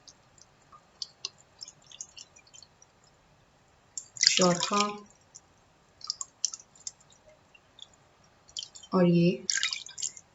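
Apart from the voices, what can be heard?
pouring cups of water onto soaking wheat dough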